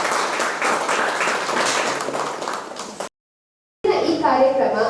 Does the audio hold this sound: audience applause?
yes